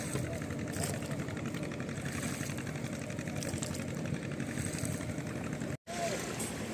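A tourist boat's engine drones steadily on the river at Jharkhali in the Sundarbans, a constant mid-pitched putter close by, with voices talking over it.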